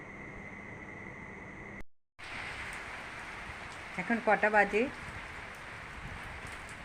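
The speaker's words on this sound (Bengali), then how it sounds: "কিন্তু বৃষ্টিটা হচ্ছে" Steady rain hisses throughout on a rooftop at 1 a.m., broken by a brief silent gap, and a person speaks a short phrase over the downpour.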